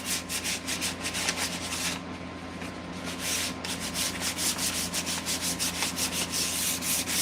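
Light hand sanding of a wooden axe handle during refinishing to knock down raised grain, a steady, close rasping rub in quick repeated strokes with one brief lighter pause, no talking.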